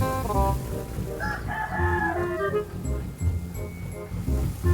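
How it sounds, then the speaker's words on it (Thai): A rooster in Farming Simulator 19 crows once in a long rising-and-falling call, set against a low engine rumble. "โอ้ย ไก่ก็ขันจังเลย"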